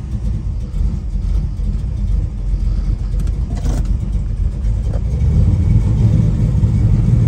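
A 1970 Chevelle with a ZZ502 engine and Turbo 400 transmission accelerates on a test drive, heard from inside as a steady rumbling engine drone that swells louder toward the end, with no talking.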